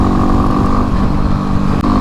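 A Kawasaki KLX351 or Yamaha WR250R/X dual-sport motorcycle engine revs hard and steady at high RPM, loud and close throughout, with a brief dip near the end.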